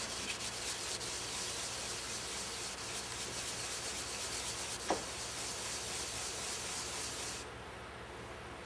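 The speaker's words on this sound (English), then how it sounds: "We just like to clean these off a little bit with the scuff pad." A scuff pad rubs over the metal contact points of a Meyer E-47 snowplow pump during a rebuild, giving a steady, close scratchy rasp that carries on for several seconds with a brief knock midway before easing off.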